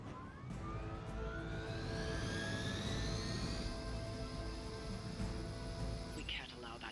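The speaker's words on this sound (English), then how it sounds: "We can't allow that helicopter to escape." A helicopter in the Midnight Suns video game drones loudly and steadily, with a rising engine whine climbing over the low rotor rumble for several seconds.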